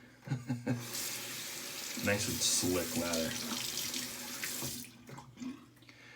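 Water runs steadily from a tap into a Van Yulay silicone bowl, a close, hissing wash with soft splashes, while a person talks over it.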